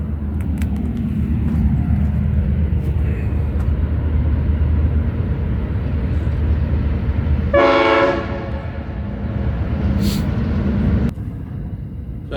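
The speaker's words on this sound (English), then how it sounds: "I can hear a train just coming through the background now." A train rumbles steadily nearby for several seconds, then a loud horn blast sounds with a brief fainter second toot before the noise drops away.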